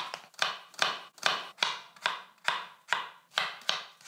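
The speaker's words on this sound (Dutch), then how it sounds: "Dan gaan we die in fijne blokjes snijden." A knife dices food into fine cubes on a cutting board, about ten crisp, evenly spaced chops in a steady rhythm, close and clear with no talking.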